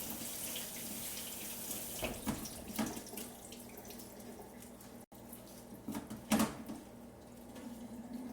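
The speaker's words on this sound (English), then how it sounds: "going to go ahead and rinse off the rest of this lettuce" Tap water runs steadily into a sink while lettuce is rinsed, a quiet continuous splash with a few louder gushes and a brief break partway through.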